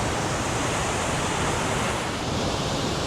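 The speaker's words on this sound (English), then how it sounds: "The Cumberland Falls. The waterfalls of the South." Cumberland Falls in Kentucky roars as a steady, dense wash of falling water, loud and unbroken throughout with no voices.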